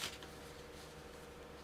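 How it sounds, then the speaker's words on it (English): A deck of gambit cards from a Risk-style board game is shuffled, a brief soft riffle and flutter of cards, quiet and close, with no voices. "We used to shuffle the gambit cards, so shuffling the deck."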